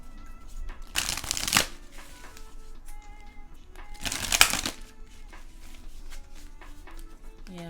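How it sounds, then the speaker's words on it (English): A Soul Journey tarot deck is shuffled in two brief, close riffling bursts during a quiet reading, each lasting under a second against a low background. "I'm going to pull out my Soul Journey deck and see what cards come out"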